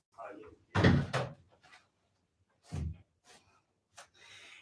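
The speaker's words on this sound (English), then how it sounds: "Can you close the door, Patiti, please?" An indoor door swung shut during a yoga session, giving a few short knocks and thuds, one louder impact standing out among quieter bumps, with faint background sounds and no talk.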